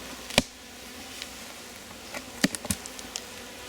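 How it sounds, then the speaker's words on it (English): Honey bees buzzing inside a freshly opened Rose hive, a low steady drone close by, with a few sharp clicks and knocks of the hive parts on top. "It means that there are plenty of bees in there."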